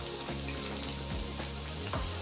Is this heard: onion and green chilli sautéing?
yes